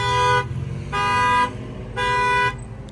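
A 2020 Ram 1500 pickup's alarm blares in three loud, evenly spaced honking bursts of about half a second each, with brief gaps between them, close by.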